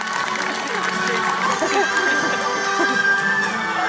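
A zoo crowd at the Blackpool Zoo sea lion show claps in a steady, sustained wash of applause, with a voice speaking over the clapping throughout.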